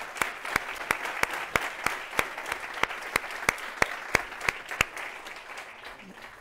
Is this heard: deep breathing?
no